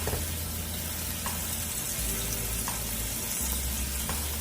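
Pork chops fry in a hot pan with a loud, dense, continuous sizzle and crackle, heard up close with no talking.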